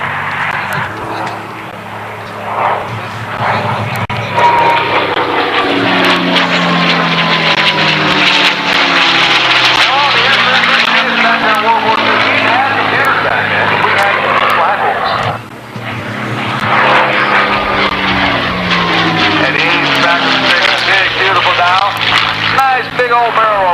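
Loud, close roar of a P-51 Mustang's piston engine during airshow aerobatics, pitch sweeping up and down as it climbs and dives, with a brief dip before the drone returns, under a commentator's talk.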